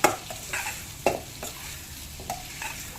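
A spatula stirs mixed vegetables for veg pithla in a hot pan, giving several scraping strokes with a soft sizzle underneath, close and moderately loud, with no talking.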